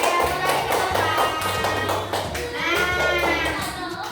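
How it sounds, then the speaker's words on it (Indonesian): A class of children in a school lesson claps in quick rhythmic bursts, close and lively, with children's voices and an adult's speech mixed in. "Iya, tepuk tangan."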